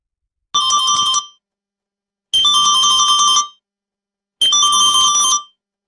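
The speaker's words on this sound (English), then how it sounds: "is that my phone buzzing again?" A mobile phone ringtone plays three clear bursts of roughly a second each, separated by short silences, loud and close with no talking.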